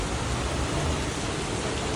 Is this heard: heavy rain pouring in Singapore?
yes